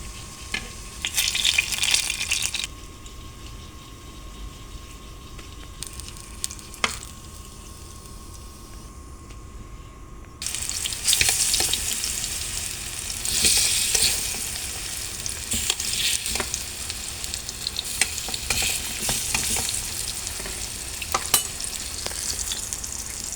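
Very ripe Vietnamese bananas, sugared, cooking in a pan give a steady close sizzle with stirring scrapes; a quieter stretch mid-way gives way to louder frying again.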